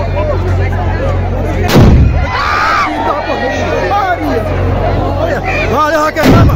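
Bacamarte blunderbuss shots at a São João festival in Caruaru, Pernambuco: two loud, booming blasts several seconds apart, heard over a noisy outdoor crowd with chatter and shouting voices.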